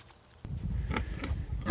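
Pigs in a pen expecting a treat grunt and snuffle loudly and close, a dense low rumbling mass of oinks with a few sharper squeals rising through it.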